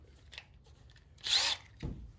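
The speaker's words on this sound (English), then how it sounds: "And I'll make one more hole with the drill bit." A Milwaukee M12 FUEL 1/2-inch drill/driver bores a hole with a drill bit in one short, close burst of whirring and grinding, framed by quiet handling knocks before and after.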